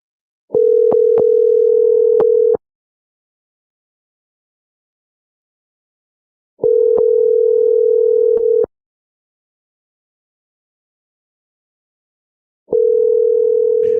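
A telephone ringback tone while calling a number back sounds in three loud, steady buzzing bursts of about two seconds each, separated by roughly four seconds of silence, with faint clicks at the start.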